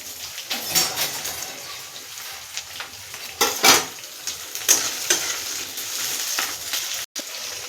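A sauce is stirred and cooked in a hot pan. A continuous sizzle runs under repeated bursts of scraping and clattering from a spoon against the pan, some louder than others, and no one speaks.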